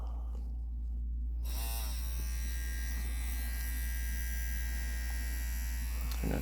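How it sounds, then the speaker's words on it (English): An adjustable budget tattoo machine starts up after a brief quiet moment and runs in a steady, close, high buzzing hum that stays even for several seconds, with no speech. "So of course with these adjustable machines, you want to turn the machine off when you adjust the stroke."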